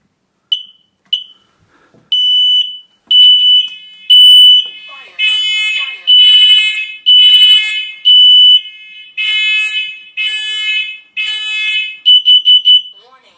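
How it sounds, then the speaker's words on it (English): A hardwired, interconnected smoke and carbon monoxide alarm being tested in a house blares loud, piercing repeated beeps in short bursts, with stretches of a spoken electronic warning voice between the tones. "Let's test this alarm."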